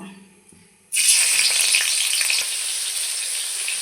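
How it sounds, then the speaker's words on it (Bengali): Puti fish coated with turmeric and salt hit hot oil in a karai, and after a quiet second a loud, dense sizzle bursts up and keeps crackling steadily to the end. "কড়াইয়ে দিয়ে দিয়েছি তেল তেল গরম হয়ে গেছে মাছগুলো মেখে নিয়েছি ভেজে নেব"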